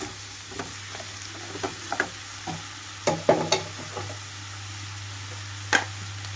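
Pieces of brinjal fry in a pan with a soft, steady sizzle for a Kerala-style brinjal roast, while a spoon scrapes and stirs in a series of sharp clinks and scuffs. Close and alone, no voices.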